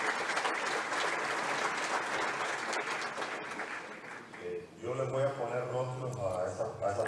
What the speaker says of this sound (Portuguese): eu quero pedir uma salva de palmas para todas as pessoas do comitê de programa que realizaram este trabalho